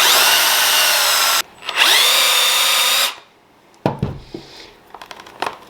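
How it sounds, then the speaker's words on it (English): A power drill bores a hole during a USB fast-charge plug install in an F150 truck, two loud sustained whirring bursts with a short pause between, followed by quieter clicks and handling knocks. "Alright, let's get the drill out and drill a hole."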